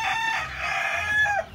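Backyard chickens crowing with a steady rooster-like call and clucking, close and loud, filling the whole short stretch with no talk over it.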